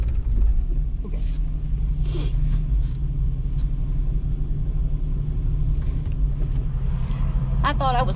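A car passes at a dispersed campsite near Flaming Gorge on the Green River, its steady low engine rumble lasting throughout with brief voices over it.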